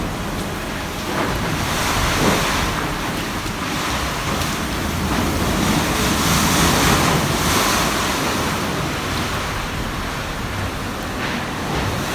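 Typhoon Ursula in the Philippines, with strong wind roaring and rushing water pouring in a continuous, loud, broadband wash that surges and gusts, with no voices heard.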